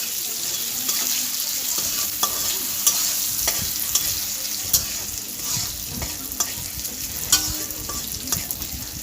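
Small mourola fish with salt get stirred in a pan, a soft steady sizzle broken by repeated sharp clicks and scrapes of a spatula against the metal, close and without talking.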